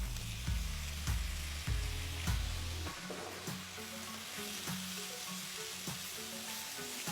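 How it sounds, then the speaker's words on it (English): Chopped tomatoes with ginger garlic paste sautéing in a hot pan: a continuous close sizzle broken by regular stirring scrapes and taps, with no talk. "Saute till the tomatoes are nice and mushy."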